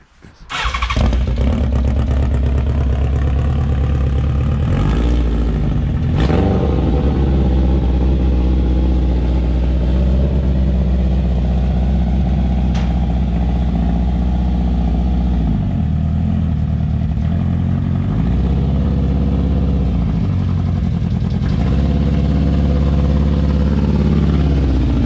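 A Renault 4L car engine running as the car drives, a loud steady mid-pitched engine drone with a few throttle changes, close to the listener.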